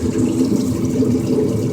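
Coolant pours steadily from a disconnected water pump hose on a Dodge Magnum 5.2L or 5.9L V8 into a large splash pan, a loud continuous rushing splash with no pauses.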